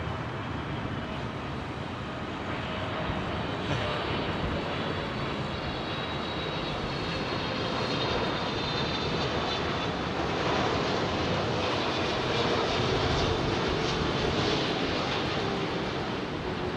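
A Korean Air airliner on approach to London Heathrow passes overhead with a broad, steady engine roar that swells slightly and stays constant throughout, no voices heard.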